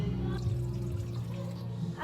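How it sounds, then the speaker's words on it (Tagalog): Water is poured into a pan while Hokkaido mackerel cooks, giving a steady, close splashing flow over a low, continuous hum, with no talk during the pour. "Lagyan natin siya ng tubig."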